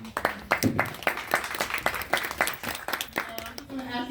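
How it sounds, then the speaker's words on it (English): Sparse, uneven clapping from a forum audience, individual sharp claps repeating irregularly at moderate distance, with a voice speaking near the end. "Please give yourselves a round of applause."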